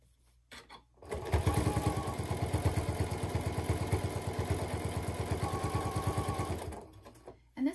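A sewing machine stitching around the binding of a pillow with a zipper, its rapid even needle chatter running steadily for several seconds up close, starting and stopping cleanly with quiet pauses at either end.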